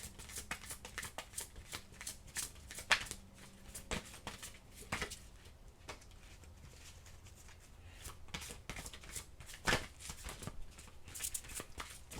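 Tarot cards are shuffled quietly and close by, with a run of soft irregular riffles, slaps and flutters that carries on with short pauses.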